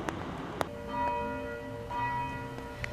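Church bells ring with sustained, overlapping tones during a war veterans' day remembrance, a few sharp strikes standing out over a soft background hum.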